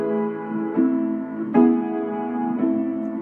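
Piano sounds sustained chords from a Chopin prelude, a dominant harmony held over a tonic bass, with three soft restruck chords ringing close and loud in a slow rhythm, without speech.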